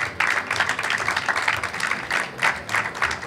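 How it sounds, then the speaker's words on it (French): Warm applause from an audience at a French climate-movement talk, dense steady clapping for about three seconds with a few louder swells, close and fairly loud. "je pense qu'on peut les applaudir chaleureusement"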